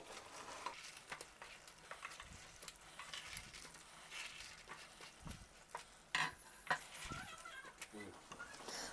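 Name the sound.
stirring cooked gooseberry and jaggery mixture in a pan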